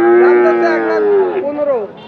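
A Sahiwal cross cow at a cattle market gives one long, loud, close moo that holds steady and then bends downward near the end.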